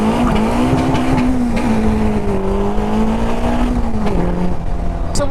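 A Caterham 420R sports car pulls away hard on a fast road, engine droning loud and close while the tyres squeal steadily through the launch.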